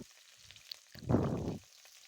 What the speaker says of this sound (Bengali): ওই কড়াইতে দিয়ে দিচ্ছি আমি তেল তেলটা গরম হয়ে গেছে দিয়ে দিচ্ছি পেঁয়াজ